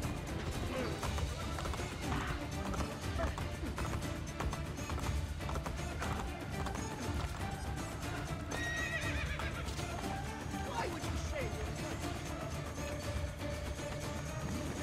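A horse in the Assassin's Creed: Brotherhood video game whinnies and neighs amid clip-clopping hooves and crashing game sounds, loud and busy throughout.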